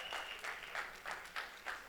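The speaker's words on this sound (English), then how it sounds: "big round of applause" An audience at a film song launch event applauds faintly from a distance, a soft, steady patter with small swells throughout.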